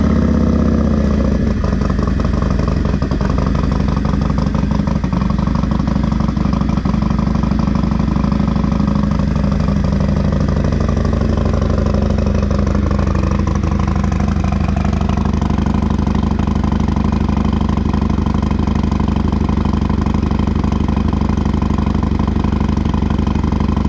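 Harley-Davidson Milwaukee-Eight Road Glide with a Bassani mid-length exhaust and S&S 475 cam, idling after a cold start: a loud, steady, lumpy V-twin rumble with mechanical clatter, running alone throughout.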